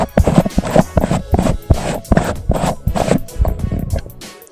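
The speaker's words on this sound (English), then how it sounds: "Gotta screw this back on." A threaded metal grille is screwed back onto a LyxPro HHMX-15 handheld dynamic microphone, making close, scratchy rubbing and clicking bursts in a quick, uneven rhythm.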